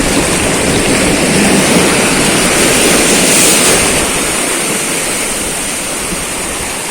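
Ocean waves splashing near dead corals in clear coastal water in General Nakar, Quezon, a loud, close, continuous roar of rushing surf that swells and then eases slightly.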